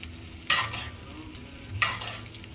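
Beef steak basting in a pan with butter pan juices, with two sharp sizzling bursts as the juices are spooned over, each fading into a steady low frying hiss, alone and close.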